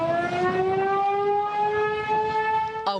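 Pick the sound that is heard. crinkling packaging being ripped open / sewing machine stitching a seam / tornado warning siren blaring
tornado warning siren blaring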